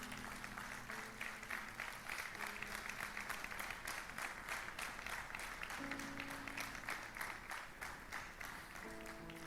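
A church congregation claps steadily in dense, sustained applause during a Spanish-language sermon, with soft organ or keyboard tones lingering underneath throughout.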